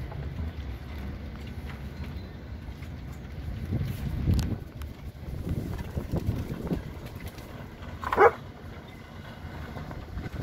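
A dog lets out one sharp bark late in the clip over a continuous low rumble, with faint softer dog sounds earlier.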